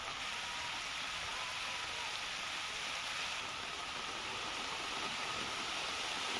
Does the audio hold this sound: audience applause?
no